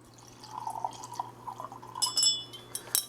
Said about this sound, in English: So we'll take the Paradiso and we'll pour it in one glass.